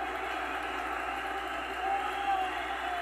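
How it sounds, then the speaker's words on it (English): Recorded crowd noise played back from a speaker during an earbud microphone test, a steady, muffled roar of many voices with faint cheering, continuous and even in level. "Okay, so now we got some crowd noise going here."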